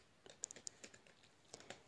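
Quiet, close typing on a computer keyboard while entering a router setting, with irregular clicks and taps in short runs and small pauses, alone with no talk.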